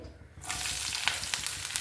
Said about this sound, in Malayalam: ആ പൊരിച്ചു കോരിയ എണ്ണയിലോട്ട് തന്നെയാണ് നമ്മൾ ഇഞ്ചി വെളുത്തുള്ളി പച്ചമുളക് കരി കറിവേപ്പിൻ്റെ ഇല അതിട്ട് കൊടുക്കുകയാണേ